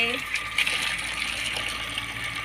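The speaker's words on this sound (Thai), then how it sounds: "ไปเขาก็เปิดน้ำใส่" Water from a groundwater well runs steadily into a tank for growing red lotus shoots, a continuous close rushing and filling sound with faint voices in the background.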